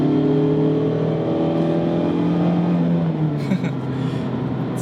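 Mazda Miata RF cruising steadily on the road, a smooth, even engine hum with tyre and wind noise inside the cabin, pitch easing slightly midway.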